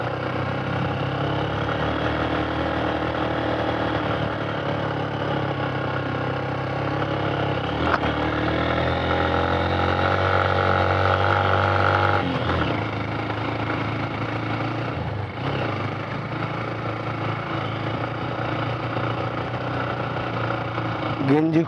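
An off-road motorcycle engine idling and revving steadily on a rough road, shifted into first gear, a close, continuous mid-pitched drone with a rider talking over it.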